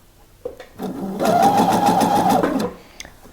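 A domestic sewing machine runs a steady stitching burst along a blouse seam, close and fairly loud, starting after a short thump and stopping cleanly, with no voices over it.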